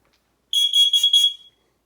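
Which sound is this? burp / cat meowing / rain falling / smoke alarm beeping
smoke alarm beeping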